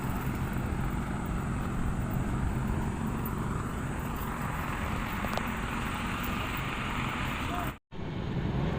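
A reclamation dredger blasts out sand at a reclamation area in the Philippines, heard from a nearby boat as a loud, unbroken roar with machinery drone that cuts out abruptly for an instant near the end.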